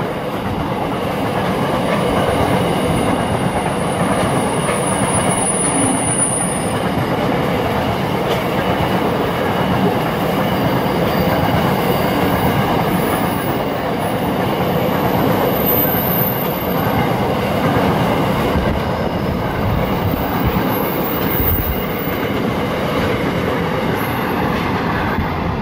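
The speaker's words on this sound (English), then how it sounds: "It appears that this is a empty steel train." An empty steel freight train rumbles past steadily at Wondabyne for the whole stretch, with continuous rolling wheel noise, faint rhythmic clatter and occasional high metallic squeals.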